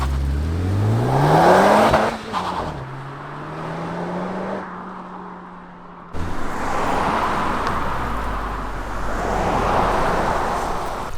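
A 2024 Ford Mustang Dark Horse revs hard and launches, its engine note sweeping upward, then settling and surging again as it pulls away, loud and close with no talking.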